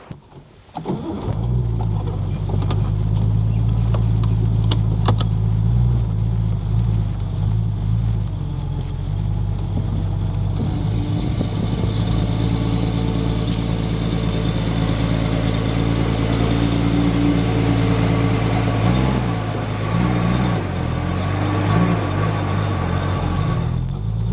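A car drives along with its engine running in a steady, fairly loud drone, briefly unsettled at the start, then holding a constant hum that shifts character partway through while the vehicle keeps moving.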